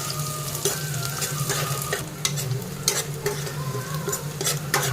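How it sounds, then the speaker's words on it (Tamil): Onions sauté in a pan until brown for a fish and garlic curry, giving a close, continuous sizzle with repeated scraping and stirring strokes of a utensil. "நல்லா வெங்காயம் வந்து பார்த்திங்கன்னா ப்ரௌன் ப்ரௌனிஷ் கலராக வரைக்கும், காஃபி கலராக வரைக்கும் நல்லா வதக்கி எடுத்துக்கணும்"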